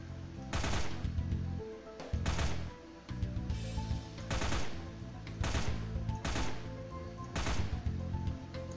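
Repeated gunfire bursts from the video game The Last of Waifus, loud rapid volleys recurring every second or so over a droning game background, with no voices.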